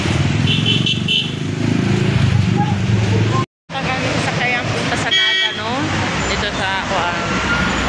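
Ride inside a jeepney heading toward Naga, with a continuous rumbling engine and road drone, a brief cutout, and a passing horn toot; voices chatter over the vehicle noise.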